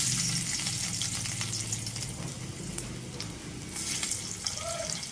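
Crushed garlic sizzles in about four spoonfuls of hot oil for a prawn tawa fry, a steady, dense crackling fry that runs unbroken throughout at close range.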